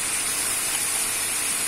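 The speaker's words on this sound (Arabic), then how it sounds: "عملت هنا البصله والكفته تشحروا كيف ما كتشوفوا" Onions and kofta frying in a pan, a steady close hiss of sizzling oil that stays even and unbroken from start to finish.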